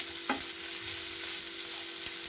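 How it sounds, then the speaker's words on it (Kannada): Food sizzles steadily in a pan as it fries toward golden brown, with one sharp utensil scrape early on and a faint constant hum beneath the hiss; no voices are heard. "ಹೀಗೆ ಫ್ರೈ ಮಾಡ್ಕೊತಾ ಹೋಗ್ತಾ ಇದ್ವಿ ಗೋಲ್ಡನ್ ಬ್ರೌನ್ವರೆಗೆ."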